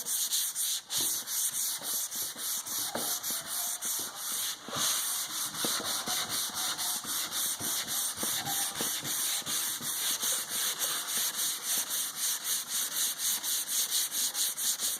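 Sandpaper is rubbed by hand over ebonized curly maple in quick, regular back-and-forth strokes, a close, steady scratchy rasp repeating throughout with no talking.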